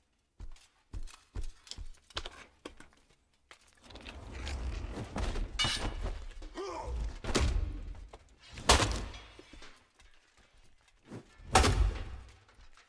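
Heavy warhammer blows in the video game Exanima, loud thudding impacts with clanking crashes landing several times at irregular intervals between quieter scuffling footsteps.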